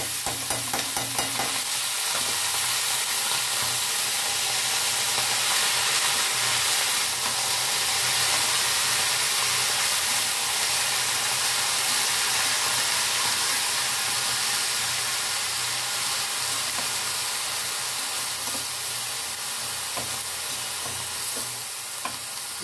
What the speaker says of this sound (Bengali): দিয়ে আমি এবারে শাকটা দিয়ে দিলাম এর মধ্যে।